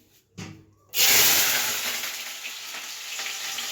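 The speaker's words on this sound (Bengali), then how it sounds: "এবার আমি ভাজবো আলু" Potatoes hit a hot pan with a sudden loud sizzle after a couple of soft knocks, then keep frying with a steady, close crackling hiss that eases slightly.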